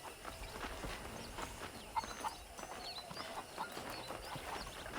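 Horse hooves clip-clop steadily in Red Dead Redemption, faint and quiet over a soft game ambience with no talking.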